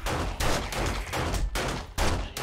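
Rapid pistol fire in the survival game 7 Days to Die, a burst of loud shots in quick succession followed by several more bursts, with no talking.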